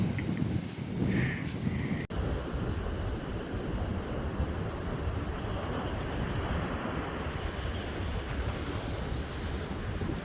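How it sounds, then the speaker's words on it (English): Strong wind roars continuously between Perth and Lynton Station, buffeting the microphone with a steady low rumble throughout. "you can tell that it's windy here"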